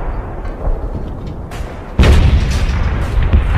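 Ottoman cannon fire pounds the weakest point of Constantinople's city wall as a sound effect: a rumbling barrage that swells into a heavier, louder boom about halfway through and keeps roaring.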